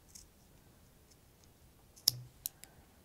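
Scissors snipping a cotton yarn end short during knitting, a few faint, quick clicks against near silence.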